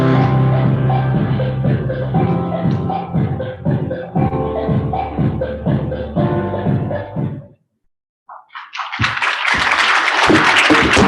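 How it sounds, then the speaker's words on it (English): At an International Migrant Day celebration, an audience bursts into loud applause after music ends and a short silence passes, the clapping dense and close for the last few seconds. "Thank you for that clap"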